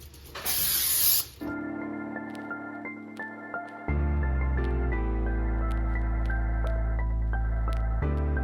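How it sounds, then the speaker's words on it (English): A short, close hiss of cooking spray lasting about a second, followed by a steady electrical hum. "A little bit of this cooking spray."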